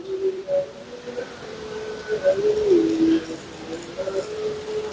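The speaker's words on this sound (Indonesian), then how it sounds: "Burung." Pigeons or doves give soft, repeated cooing calls at a moderate distance, steady against a quiet outdoor background.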